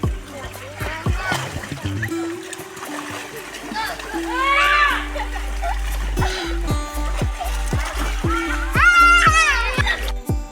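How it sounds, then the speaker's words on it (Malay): Children splashing in a swimming pool at a campsite, with steady splashes and water movement up close and kids' voices talking and shouting throughout. "Selesai makan, kami pun mandi kolam."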